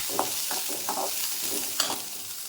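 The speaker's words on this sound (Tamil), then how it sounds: "அது கூடயே ஒரு கொஞ்சம் இஞ்சி, பூண்டு போட்டு அதையும் சேர்த்து வதக்கிடுறேன்" Shallots, ginger and garlic being sautéed in a pan for a chana dal chutney, with a steady close sizzle broken by repeated scraping stir strokes.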